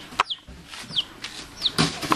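A hen clucks in a box, short calls sounding every half second or so, close and fairly quiet, with a little rustling between them.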